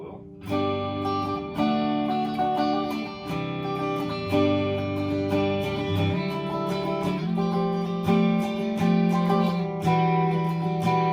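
Fender Mod Shop Stratocaster electric guitar on a single-coil pickup setting, played through an amp with sustained chords and shifting notes, loud and continuous without pauses.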